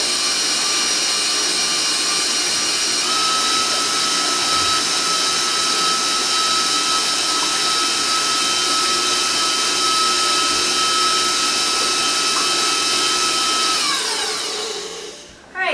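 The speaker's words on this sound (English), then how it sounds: "we're going to turn that on, blend it up" A blender whirs steadily at high speed through a flan mixture for about fourteen seconds, loud and continuous with a strong tonal whine, before spinning down near the end.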